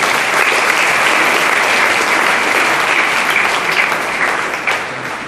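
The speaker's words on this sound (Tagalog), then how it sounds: "Kaya palakpak po natin din ang mahal na Ina." Sustained, dense applause from a congregation at an ordination thanksgiving, a steady loud wash of many hands clapping throughout.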